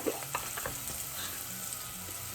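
Tomato sauce frying in a pan while being stirred, a steady close sizzle with a few scraping spoon strokes early on, no voices.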